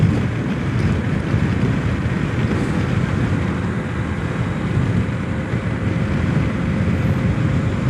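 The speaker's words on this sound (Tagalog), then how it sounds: "Ang lakas ng hangin." Strong wind roars steadily across the microphone on a coastal road during a CB200X motorcycle ride through Hualien, Taiwan, a loud, constant buffeting rush with no other sounds.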